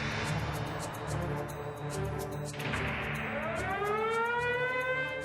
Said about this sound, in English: More siren.